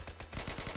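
A short, loud burst of close gunfire from an M4 rifle, fired with controlled recoil, with several quick shots packed into under a second.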